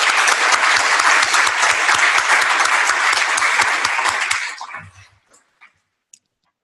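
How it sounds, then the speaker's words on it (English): An audience at a club meeting claps steadily and loudly, then the applause tapers off and fades into near silence. "let's applaud for you and and your neighbor"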